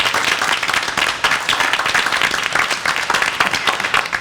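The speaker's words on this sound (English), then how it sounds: "But just another round of applause with his great performance." An audience at a Bergen Community College board of trustees meeting applauds, giving dense, continuous clapping that stays loud and even throughout with no break.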